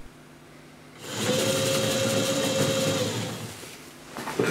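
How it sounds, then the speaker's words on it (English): Washing machine motors driving a homemade robot spin up together, a steady loud electric whine and hum lasting about three seconds before winding down, recorded up close with no talking. "It's nice to see that the motors are able to spin at the same speed and torque in both directions"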